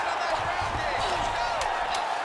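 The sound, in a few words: arena crowd cheering at a UFC fight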